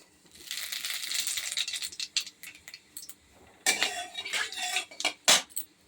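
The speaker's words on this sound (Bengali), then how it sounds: "তেলটা একটু নাড়াচাড়া করে দিই। সামান্য একটু আমি রাঁধুনি ফোড়ন দেব।" A spatula stirring oil in a metal pan while spices are tempered for a Bengali lunch, with repeated scraping and clinking strokes in uneven bursts, close and fairly loud, no voices.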